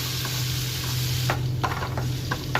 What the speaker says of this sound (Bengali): ডালটা দু এক মিনিট তেলের মধ্যে একটু নাড়াচাড়া করে নিলাম